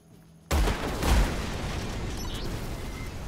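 A weapon shot fired in the video game Age of Wonders: Planetfall, one loud sudden blast after a quiet start that rolls into a sustained rumbling roar, with no voices.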